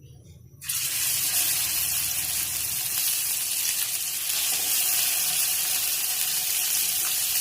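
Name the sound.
shami kababs frying in hot oil in a frying pan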